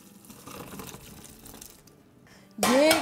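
Boiled, fork-tender potatoes being drained in a kitchen, with quiet clatter giving way to a sudden loud rush of hot water pouring through a strainer in the final moments.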